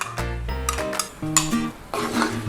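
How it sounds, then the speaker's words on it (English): A spoon clinks and scrapes against a pan while yogurt is stirred into chicken saag, with close, irregular metallic knocks and a soft sizzle beneath, no voices. "So get our yogurt in there."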